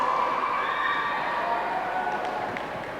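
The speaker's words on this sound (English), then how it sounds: "Audience applause." A crowd cheers and shouts, with some applause, for young women at a high school chocolate pudding wrestling event; loud, continuous cheering with children's and teens' voices mixed in, fading slightly toward the end.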